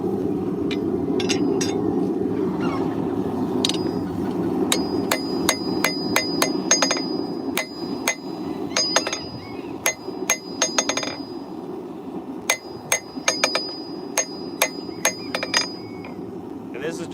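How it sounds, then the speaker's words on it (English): Repeated sharp hammer blows on hot scrap mild steel being forged and rolled into a socket, irregular strikes ringing out over a steady roar of forge background, some strikes in quick bursts. "So we'll do a reheat and then roll up the socket."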